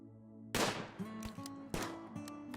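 Gunshots in the colony game Rimworld, two sharp loud reports about a second apart, each with a ringing tail over a faint background hum.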